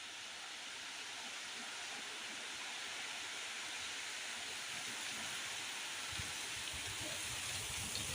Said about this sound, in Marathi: हा बघा इकडे पाऊस जोरदार लागतोय आणि आता इकडे सुद्धा आलाय